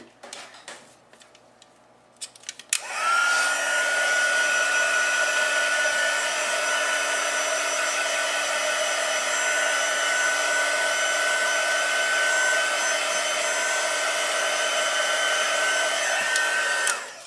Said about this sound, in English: I'm going to hit it with the heat tool really quick